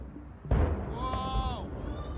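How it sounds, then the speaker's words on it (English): A distant industrial fire explosion sets off a sudden loud low rumbling blast that lingers as a roar, with a rising and falling whistle-like tone over the top. "The scale of the explosion is clearer in another footage."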